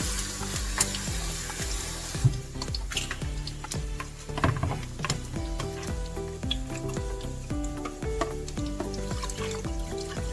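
Turkey broth simmering and sizzling in a pan, a steady bubbling fry with occasional stirring clinks, moderately loud and close, with no voices.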